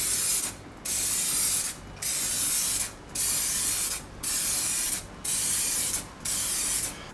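Seven short bursts from a spray can applying a thin primer coat to a headlight hiss in a steady rhythm, each about a second long, separated by brief pauses, close and loud.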